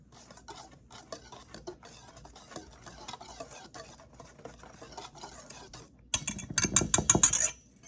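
A spoon stirs the dry ingredients for carrot cake, including baking powder, cinnamon and salt, in a bowl with a soft, steady scraping rhythm that grows louder and brisker near the end.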